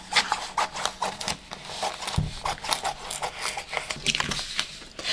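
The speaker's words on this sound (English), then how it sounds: "Now we cut this piece off" Vinyl transfer tape cut off by hand for a glow-in-the-dark T-shirt screen print, a run of quick crisp snips and scraping rustles close to the microphone.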